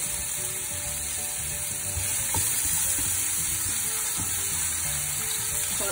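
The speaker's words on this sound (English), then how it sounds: "Saute the onion for roughly 5 minutes." Onion and chili sizzle in hot oil with cumin and fennel seeds in a pan, a steady soft frying hiss with occasional faint stirring scrapes, close and alone.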